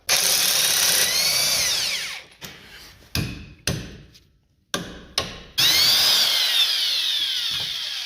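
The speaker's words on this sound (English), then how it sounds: "Just going to take the end link off, let it hang, and then 15 on this guy right here." A power wrench removes the nut of a rear sway bar end link on a 1999-2004 Jeep Grand Cherokee during an axle swap: a long whirring run, several short choppy bursts with pauses, then another sustained spin, close up.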